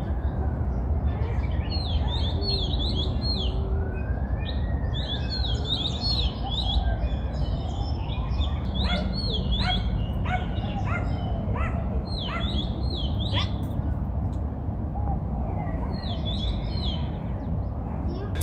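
Small birds chirp and tweet repeatedly in a waterfront park at Quarry Bay, bright trilling calls over steady background hum from the surroundings, with a few bursts clustered near the middle.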